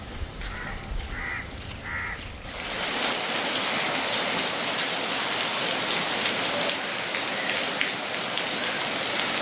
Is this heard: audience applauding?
no